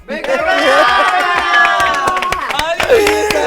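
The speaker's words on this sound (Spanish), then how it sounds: "démosle un fuerte aplauso a Pepe y Teo" Audience applause and cheering for a returning duo on a drag competition show, a loud sustained burst of clapping with whoops, mixed with voices and a bright tonal layer, likely music, throughout.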